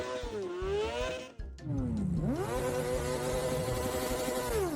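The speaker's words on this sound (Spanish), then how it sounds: "un motociclista decidió presumir con su moto" A motorcycle engine revs hard nearby at a traffic light, its pitch swooping up and down, dropping briefly, then surging into a long, loud, sustained roar.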